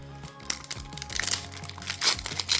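The crinkly wrapper of a card booster pack rustles and crackles loudly and close up as it is torn open, in irregular bursts of crunching plastic with no talking.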